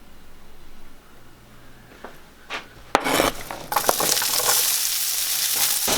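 Onions are dropped into a heated pan with a tablespoon of olive oil. A few quiet clicks and scrapes come first, then a sudden loud sizzle rises and keeps crackling steadily.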